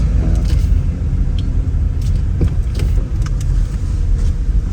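A Mercedes R129 SL500 drives along with a steady, loud engine and road rumble throughout, with a few faint rattles and clicks above the drone.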